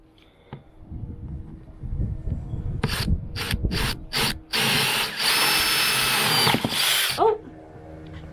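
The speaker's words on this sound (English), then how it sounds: "The drill wasn't tightened down very good." A power drill whirs in short bursts and then a longer steady run during a solar arch install on a tower, loud and close, preceded by scraping handling sounds.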